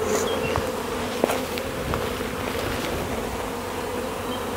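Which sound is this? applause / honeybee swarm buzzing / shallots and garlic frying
honeybee swarm buzzing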